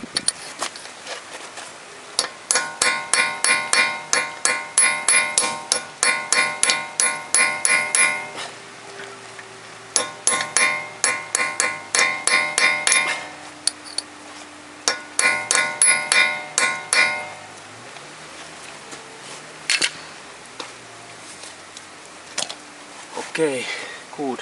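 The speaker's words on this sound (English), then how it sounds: "next I take my metallic spike and then of course hammer, and I hammer that little bit." A hammer drives a metal spike against the dented nut on a 2007–2015 Toyota Corolla during right-side driveshaft replacement, making bright ringing metallic strikes in rapid bursts of many blows separated by short pauses.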